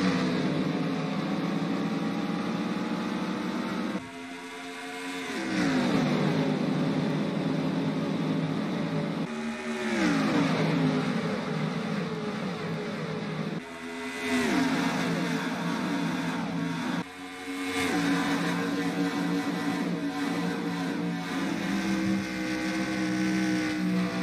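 A field of stock race cars roars through the gears at the green flag. The engines give a loud, continuous, layered howl with repeated rising sweeps as they shift, heard up close with no talk.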